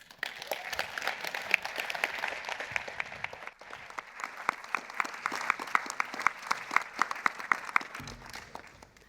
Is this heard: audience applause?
yes